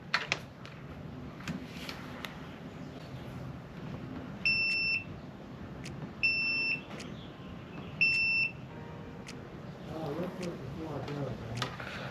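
A multimeter continuity checker beeps on a 1971 Johnson 25hp outboard ignition coil, three short, high, steady beeps evenly spaced, under quiet workshop sounds with someone talking nearby.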